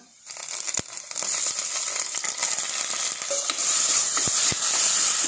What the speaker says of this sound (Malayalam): ഇനി നമുക്കിതിലേക്ക് തക്കാളി ഇട്ട് കൊടുക്കാം.